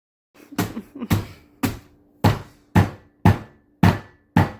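Repeated sharp thuds of a smasher crushing Oreos in a sealed plastic bag against a hard surface, about nine heavy blows in a loose, steady rhythm, close and loud.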